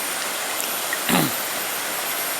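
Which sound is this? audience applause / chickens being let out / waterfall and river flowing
waterfall and river flowing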